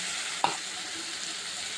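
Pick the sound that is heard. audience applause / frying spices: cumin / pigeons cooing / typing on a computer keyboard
frying spices: cumin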